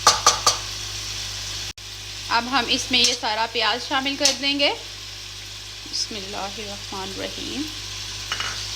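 Onions being fried in oil in a kadhai for a Punjabi chicken karahi give a steady sizzling hiss throughout, with occasional stirring, while someone speaks over it.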